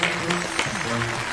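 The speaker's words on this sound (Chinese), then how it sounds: "掌声有请" Studio audience applause on a Chinese television talent show, steady clapping with music or tonal sound underneath and a voice briefly over it.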